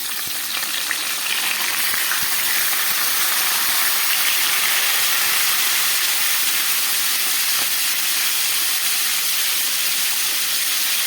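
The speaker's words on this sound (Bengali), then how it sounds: "এবার আমি মাছের মাথাগুলোকে ভেজে নিচ্ছি।" Hilsa fish heads fry in hot oil in a kadai, giving a loud, steady, close sizzle and hiss with scattered pops and crackles throughout.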